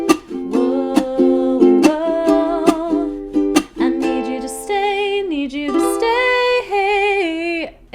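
A ukulele strums the chord progression of the outro of a song in a lively rhythmic pattern with crisp percussive strokes and changing chords, bright and close with no talk.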